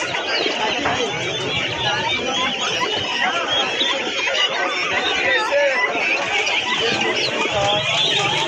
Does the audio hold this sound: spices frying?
no